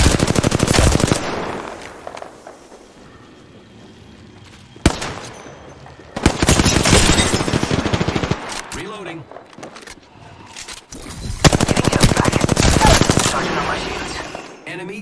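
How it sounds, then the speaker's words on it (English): Gunfire in the video game Apex Legends comes in loud, dense automatic bursts separated by quieter gaps, with a few single shots and voices heard between the volleys. "They're shooting at me."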